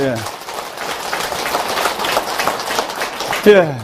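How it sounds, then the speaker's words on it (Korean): Lecture audience applauding, a dense patter of many hands clapping at steady level through the whole stretch, with a voice breaking in at the end. "박수 한번 드리세요"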